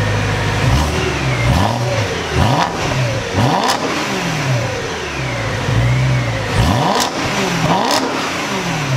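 A BMW M3 engine, a rebuilt car after a wreck, gets revved repeatedly from close by, with sharp blips rising and falling in quick bursts over a steady idle.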